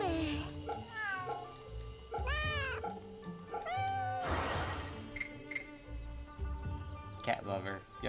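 Cats meow repeatedly in the video game Fate/Samurai Remnant, rising and falling calls layered over game music and ambient sound, with a person talking among them.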